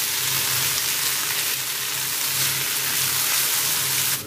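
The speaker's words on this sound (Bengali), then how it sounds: "এই ডিম, গাজর আর টমেটো, পেঁয়াজ এগুলো সব একসাথে আবারও 2 মিনিট মতো একটু ভেজে নেব" Egg, carrot, tomato and onion frying together for noodles, a loud, even, rain-like sizzle that runs unbroken and drops off abruptly at the end, nobody talking.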